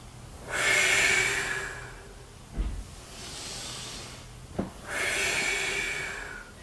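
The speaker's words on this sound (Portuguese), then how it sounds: "Inspira aí." Deep nasal breaths during a lower-back and sciatica stretch, two long loud hissing inhales separated by a quieter exhale and small clicks, close to the microphone with no talking.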